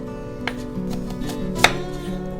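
An onion is chopped on a board, giving a few sparse, sharp knife knocks with the loudest near the end, over a low steady kitchen hum, with no talk.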